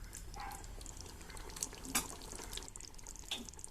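Water pours into a pot of mutton biryani as a soft, continuous splashing trickle. It is quiet and close, with a few small drips and splashes standing out.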